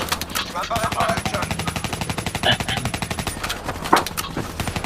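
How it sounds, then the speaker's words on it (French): Rapid automatic gunfire from a cooperative campaign of the shooter game Call of Duty Black Ops 3 rattles in dense bursts, loud and near, with a few sharper impacts mixed in. "Moi je tire partout parce que je sais jamais où sont les ennemis là."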